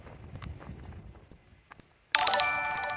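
A livestream follower-alert chime bursts in bright and loud near the end, a ringing tonal jingle cutting across quiet outdoor walking sounds and faint chirps.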